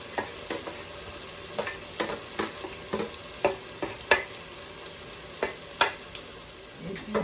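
Onions frying in a pan while being preparing for a peanut sauce with smoked chicken, a soft steady sizzle punctuated by repeated sharp scraping knocks of a stirring utensil, close and without talk.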